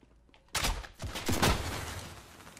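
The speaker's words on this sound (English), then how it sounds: "I'm gonna shotgun this." Shotgun blasts in the video game Call of Duty Modern Warfare, with a loud broadband shot followed a moment later by a cluster of heavier booming reports that decay into a noisy game background.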